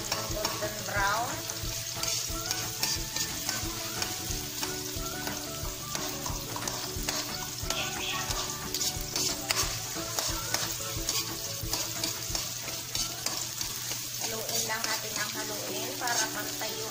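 Garlic and onion are sautéed in a hot pan, giving a steady, dense sizzle and crackle that runs the whole time with occasional stirring scrapes close by.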